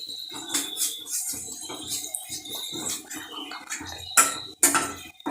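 A spoon scrapes and clinks against a pan while stirring chicken curry masala with salt, irregular metallic taps and scrapes in quick bursts, close and fairly quiet, with a couple of sharper knocks near the end.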